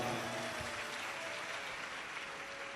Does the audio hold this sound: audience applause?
yes